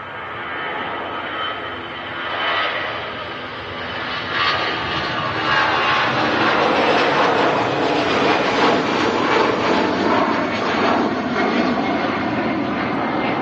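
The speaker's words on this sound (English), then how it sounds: "the next aircraft is going to be potentially a Jet 2757. There she is." A Jet2 Boeing 757 passes at Manchester Airport, its engine roar building from a steady broadband rumble into a loud, sustained jet noise that holds through to the end, with no voices.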